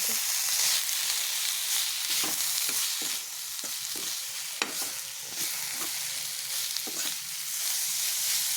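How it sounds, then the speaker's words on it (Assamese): Radish with turmeric and cumin powder stirred in a frying pan with oil: constant sizzling hiss broken by irregular close scrapes and taps of the spatula against the pan, no voices. "আৰু এইখিনি ভালদৰে লৰাই দিম।"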